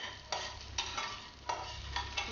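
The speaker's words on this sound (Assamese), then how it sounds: "এনেদৰে দি অলপমান ভালদৰে ভাজি ল'ব" Chopped onion and slit green chilies fry in a pan, a steady close sizzle broken by rhythmic scraping strokes of a spatula stirring every second or so, with no voices.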